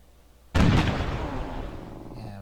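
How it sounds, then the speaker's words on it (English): A Civilization III city under artillery bombardment: one sudden loud blast that rolls into a long, slowly fading rumble, with a brief voice at the end. "And we got a bombardment on Toledo"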